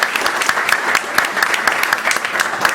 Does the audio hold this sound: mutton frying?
no